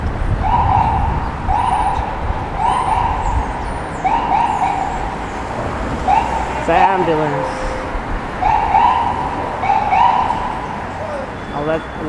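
An ambulance siren wails in regular cycles nearby in New York City traffic, loud and continuous, with a few sharp yelps mixed in over road noise.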